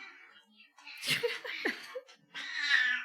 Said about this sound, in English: the cat came down here and is screaming at us for some reason